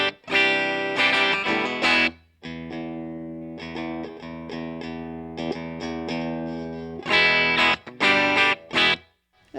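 Electric guitar played through a Mesa Boogie Mark V amp switched to tube rectifier, bright sustained notes and chords in short phrases with brief stops, loud and upfront.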